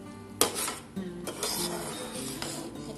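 A spoon stirring sweet rice pudding (kheer) in a pot on a gas stove, close scraping and clinking of metal against the pot with a sharp knock near the start, all in quick irregular strokes.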